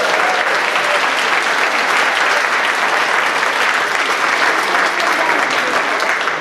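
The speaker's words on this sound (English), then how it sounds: "I think you should applaud yourselves for showing up." Loud, sustained applause from a large crowd at a Christmas show, dense and even throughout with no pauses, filling the room.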